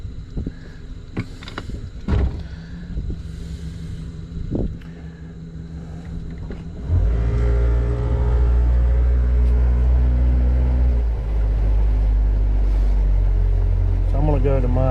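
A boat motor idles and runs, its low steady rumble starting partway through and continuing loud and close after a stretch of quieter handling sounds and clicks.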